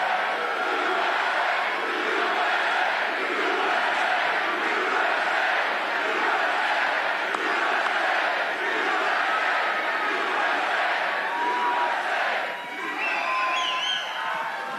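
A large political rally crowd in Erie, Pennsylvania cheers and shouts continuously, a dense wall of voices that stays loud and steady throughout with whoops rising above the roar.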